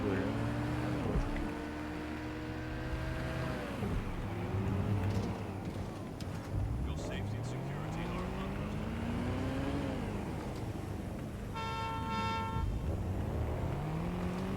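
Cars drive past in the city streets of Watch Dogs Legion, engines rising and falling in repeated sweeps as vehicles pass close by, with a horn toot near the end and someone talking over them.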